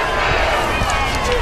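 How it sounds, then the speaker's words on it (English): An Abbeville crowd cheers at a high school state championship football game, a dense, loud roar heard from across the stadium under a commentator's voice. "And you can hear the Abbeville crowd from over here."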